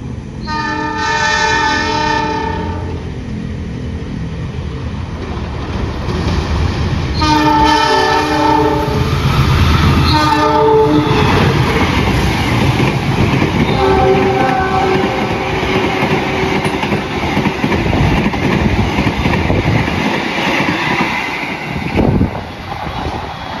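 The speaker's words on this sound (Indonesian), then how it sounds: "Kereta api Argo Sindoro dari arah sana akan melintas langsung dengan kecepatan tinggi di jalur 2." Argo Sindoro express train speeding through a station: loud repeated horn blasts over a roaring rush of wheels and rail clatter that continues steadily as the long train passes close by.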